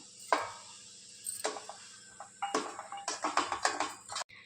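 Semolina roasts in four spoons of ghee in a pan, giving a faint sizzle under a series of sharp spoon scrapes and taps against the metal that grow busier toward the end.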